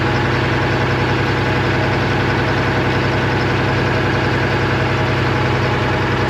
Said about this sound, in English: Man, that really sounds like it's huffing air out of somewhere, not out of the motor.